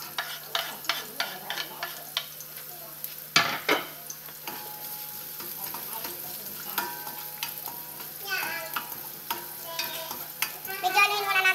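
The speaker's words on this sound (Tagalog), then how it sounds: "Medyonin muna natin ang sibuyas." Onions being sautéed and stirred in a pan, with a steady sizzle and repeated scraping and stirring strokes, close and fairly quiet, one louder clatter partway through.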